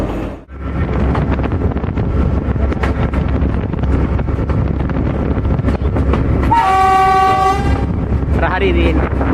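The Podi Menike train runs between Badulla and Kandy in Sri Lanka, heard from the cab as a loud, steady rumble of wheels and wind, with a long horn blast sounding near the end.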